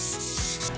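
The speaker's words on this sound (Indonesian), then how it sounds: "hasilnya pun kalau diamplas pakai shading pad ini bisa rata" A sanding pad rubs by hand over wood filler on a wooden table, sanding with the grain, making short close scratchy strokes in a quick back-and-forth rhythm.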